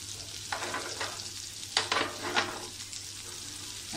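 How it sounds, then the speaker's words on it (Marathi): Prawns stir-fried on a flat tawa, a steady close sizzle with bursts of louder spattering as they are tossed and turned, no voices. "अशा प्रकारे आपण ह्या सगळ्या कोळंब्या परतून घेऊया"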